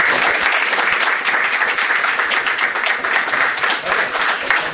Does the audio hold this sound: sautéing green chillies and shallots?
no